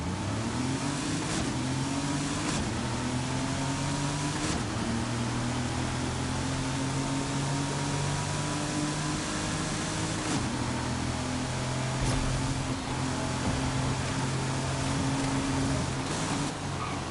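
Car test-driven in a racing video game, a steady synthetic engine drone with repeated pitch climbs and shift drops, sustained and moderately loud, with no talking.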